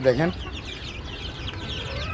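Desi chickens and chicks in a cage cluck, with one loud squawk at the start followed by softer chirping and clucking.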